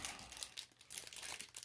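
Foil wrapper of a 1991-92 Pro Set Platinum Series 2 hockey card pack, holding 12 cards, being torn open: continuous close, bright crinkling and rustling with small tearing bursts throughout, no voices.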